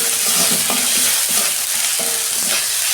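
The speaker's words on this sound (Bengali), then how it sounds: "রসুন দিচ্ছি 1 চামচ, আদা দিচ্ছি 1 চামচ। ভালো করে আমি কষাবো মশলাটা।" Garlic and ginger spice paste sizzles in a pan for a Bengali fish curry, a steady close frying hiss with repeated scraping stir strokes across the pan.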